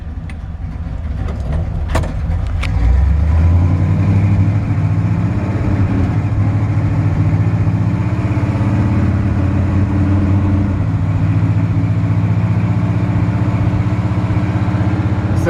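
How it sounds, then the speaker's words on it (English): A 1964 Chevy C10 engine with side exhaust pipes idles, a loud, steady low rumble that settles in after a brief start and holds evenly, with no talking. "the engine sounds awesome"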